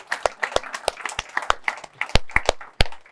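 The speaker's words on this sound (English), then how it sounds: "Huge round of applause" Scattered applause in a room of sales professionals, with separate sharp claps at an uneven, thin rhythm rather than a full, dense ovation.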